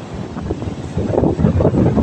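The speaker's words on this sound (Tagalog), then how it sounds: "Ayan, napakalakas ang hangin mga ka-idol. Grabe. Nakakabingi ang hangin." Strong wind buffets an outdoor microphone at sunset, a loud, continuous low rumbling roar that swells and gusts, growing heavier midway through.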